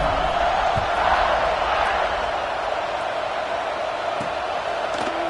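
A home crowd roars and cheers in a college football video game between Notre Dame and Navy, a dense continuous wash of crowd noise filling the space with a few faint thuds, steady and loud throughout.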